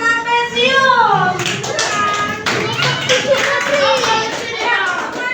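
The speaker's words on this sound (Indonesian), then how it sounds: "beri tepuk tangan untuk kelompok trapesium aja ya" Children clap for a group in a classroom, a burst of loud hand claps alongside children's voices and a teacher's speech.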